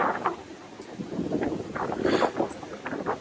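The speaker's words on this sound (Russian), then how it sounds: "Слушай, ну тут ветер." Steady wind buffeting the microphone outdoors, a low rumbling roar with gusts that swell and fade throughout.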